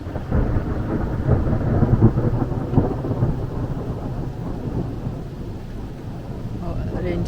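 Thunder rumbles low and heavy during a storm in Scotland, a long rolling boom that swells early and slowly subsides, close and loud overhead, with voices talking beneath it.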